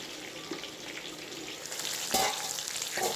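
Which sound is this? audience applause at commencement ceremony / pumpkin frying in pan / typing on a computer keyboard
pumpkin frying in pan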